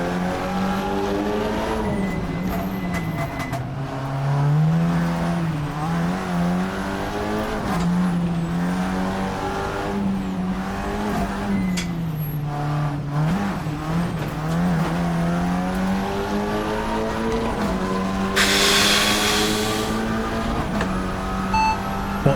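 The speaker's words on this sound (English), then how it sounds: "We're seeing lots of rear locking." A TCR touring car engine in Assetto Corsa at the Pau street circuit drones and revs continuously, pitch rising and dipping through gear changes, with brief bursts of tire noise as the rear wheels lock; no talking.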